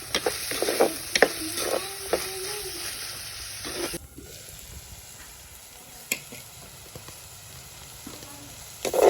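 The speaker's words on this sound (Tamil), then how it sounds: "வெங்காயம் கொஞ்சம் வதங்கிடுது." Onions, garlic and green chillies sauté in a pan with a steady sizzle, broken by a few stirring scrapes. The sound is close and continuous, and no one speaks.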